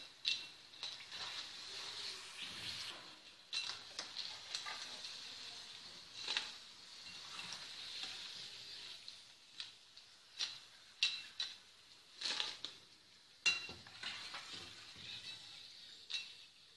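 Homemade potato chips fry in oil over a medium flame with a steady crackling sizzle and irregular bursts of popping that rise and fall throughout.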